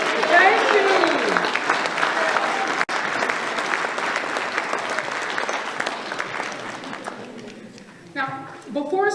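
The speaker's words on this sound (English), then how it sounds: "give them a big round of applause and an out loud thank you" A graduation commencement audience applauds loudly and steadily, dense clapping filling the hall for most of the stretch before tapering off near the end as a voice briefly speaks.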